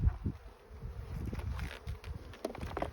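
Honeybees swarming around a hive entrance, a steady faint buzzing drone with individual bees zipping close by now and then, heard alone without talk.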